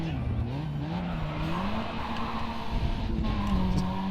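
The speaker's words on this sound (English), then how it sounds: "This almost kind of sounds like an engine note that you might hear in, like, Need for Speed Underground or something" A car engine drones and revs in the Grid 2 racing game, a steady tonal note rising and falling with speed, close and continuous with faint tire noise.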